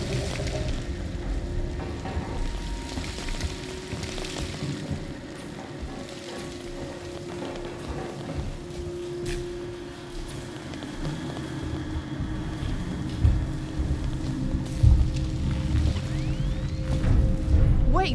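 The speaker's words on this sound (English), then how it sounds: "Raindrops are falling on my head." Steady rain pattering in the Alien Isolation game world, a continuous wash of drops with low mechanical hum underneath, occasional thuds, and someone talking over it.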